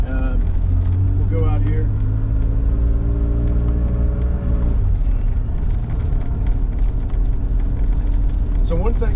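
A vintage Porsche 911 engine drones loudly from inside the cabin as the car pulls away, revs rising and then dropping at a gear change, with someone speaking briefly over the rumble.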